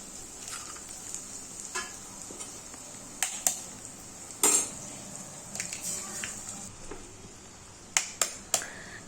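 Three eggs fry in a pan over a low flame for egg rice, giving a soft, steady sizzle broken by sharp clicks and scrapes of a spatula stirring against the metal.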